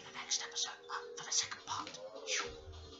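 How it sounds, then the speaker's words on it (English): Keys clatter on a computer keyboard as a name is entered in a game menu, quick uneven bursts of close tapping over about three seconds, with faint voices murmuring alongside. "Right then, I'll just type in as Crash now"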